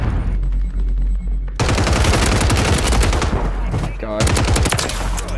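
Suppressed Kastov 762 assault rifle fire in Warzone on Rebirth Island, loud rapid automatic bursts after a quieter opening, with a brief spoken exclamation between volleys.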